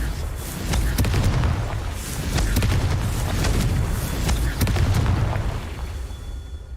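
Confringo spell explosions in Hogwarts Legacy sound as repeated booming blasts and sharp pops over a steady rumble, loud and close, with a voice speaking briefly.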